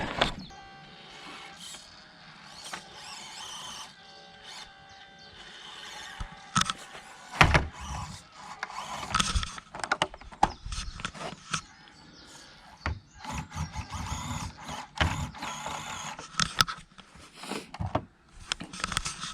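A Tiger Dog HG-18 mini RC crawler grinds along a rough course, its small motor whirring in uneven bursts with clattering knocks and thumps as it climbs, loud and close throughout.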